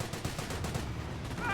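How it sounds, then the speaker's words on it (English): Rapid machine gun bursts from Company of Heroes, a World War II strategy game played British versus Wehrmacht, form a dense, continuous rattle of gunfire that holds steady and loud for the whole moment. "MG fire!"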